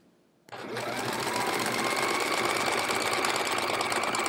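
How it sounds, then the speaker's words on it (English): A sewing machine stitching binding onto a hedgehog wall-hanging quilt starts abruptly and then runs in a loud, steady, fast mechanical whir close by, with no pauses. "I'm just excited to be sewing the binding onto this guy"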